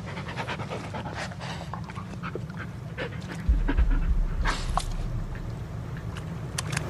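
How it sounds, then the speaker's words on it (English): A dog in the Blair Witch video game pants rapidly and steadily, close and fairly loud, with soft scuffs and a brief low thump partway through. "Good dog."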